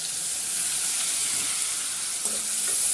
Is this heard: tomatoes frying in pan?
yes